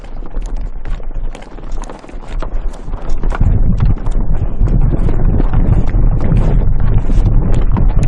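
A herd of wild donkeys crossing dry ground in Central Asia, many hooves clopping in a loud, dense, irregular patter that swells after a few seconds, with wind buffeting the microphone.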